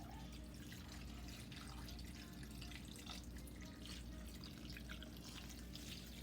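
Water poured into a pot for Liberian pepper soup, heard as a faint, steady trickle and splash that runs without pause, quiet and slightly distant.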